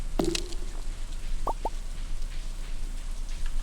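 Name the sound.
rain falling in Stardew Valley video game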